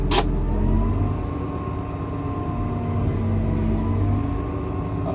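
A Komatsu D65PXI dozer moves along in first gear, its diesel engine holding a steady, loud, low drone with a constant whine on top, heard from the cab, preceded by one brief sharp click.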